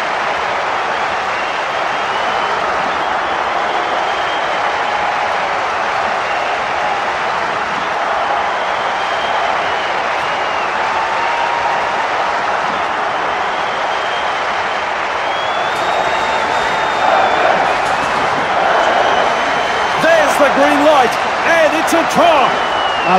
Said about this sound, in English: The crowd loved that one, and they're on their feet applauding that play.